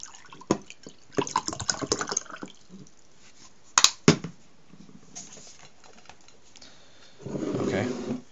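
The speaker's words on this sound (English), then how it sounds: "Okay, now I'm gonna wet my hand real quick." A hand is wetted with water near a phone microphone: scattered splashy drips and rubbing, two sharp close clicks, then a longer patter of running water near the end, with quiet gaps between.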